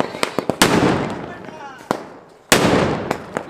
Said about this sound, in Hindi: पूरे फूट गए बम